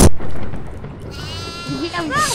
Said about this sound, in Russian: Вот козленок, тихо, вот, надо сено